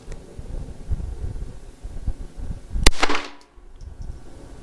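A single sharp pistol shot with Remington Thunderbolt rimfire ammunition fired outdoors over a chronograph, a crisp crack followed by a brief echoing tail against windy background noise.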